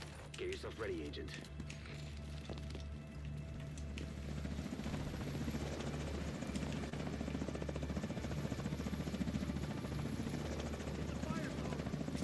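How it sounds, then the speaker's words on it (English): An enemy helicopter approaches in the video game The Division 2, its rotor a steady low chopping drone that swells and holds loud for several seconds. "Enemy helicopter approaching."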